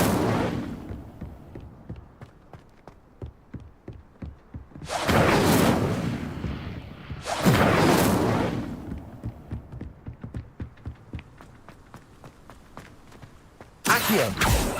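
Incendio fire spell cast in Hogwarts Legacy, a loud whooshing flare that swells and fades, heard twice with another starting at the end, over quiet footsteps and faint game ambience.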